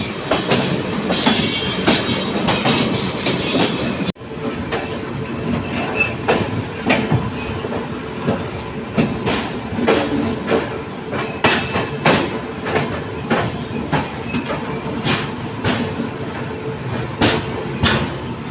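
A Rajdhani express train runs through Ambala Cantt junction without stopping, a loud steady roar of rolling stock with repeated clickety-clack wheel beats over rail joints all the way through, and no voices.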